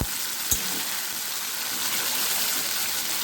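Ground tomato paste hits a generous amount of hot oil for a katla fish kalia, setting off a loud, continuous close-up sizzle, with a couple of sharp utensil knocks near the start and no talking.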